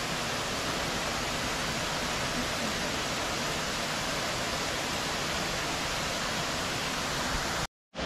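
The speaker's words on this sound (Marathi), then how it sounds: "बघू शकता हा आहे नॅचरल धबधबा" A natural waterfall in Meghalaya near a double decker root bridge roars as a dense, even rush of water, loud and unbroken until a brief cut near the end.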